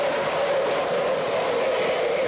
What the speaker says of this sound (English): The train's running.